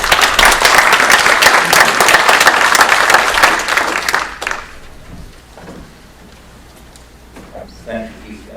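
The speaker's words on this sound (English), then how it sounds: "So one more round of applause for those folks." Applause for dispatchers at a county government meeting, a loud, dense round of clapping in a hall that fades after about four seconds, followed by quiet room sound and faint talk.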